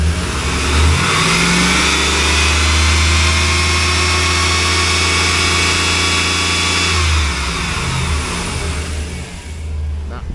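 A 2004 Chevrolet SSR convertible with a 5.3L LM4 V8 runs loud and close, holding a steady rev for several seconds before dropping back toward idle, with a faint voice underneath.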